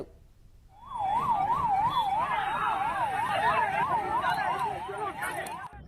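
An ambulance siren wails in a steady rising-and-falling pattern during a police riot-control mock drill in West Godavari, as staged casualties are taken away. The siren is loud and continuous, with a low rumble of vehicles underneath.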